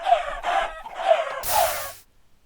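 Chickens in Minecraft give a few short clucking bursts in quick succession, followed by a brief harsher noise before falling silent.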